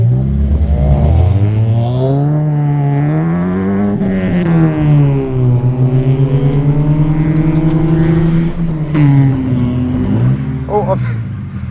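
A cheap old car, rated the worst in the world, accelerates on British roads; its engine drones close and loud, its pitch climbing and falling through the gears over the whole stretch.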